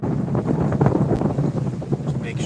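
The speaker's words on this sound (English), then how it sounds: "we sail the rest of the way" A sailboat moves through the water at about five knots in a nine-knot wind, with steady rushing wind and water noise buffeting a nearby microphone throughout.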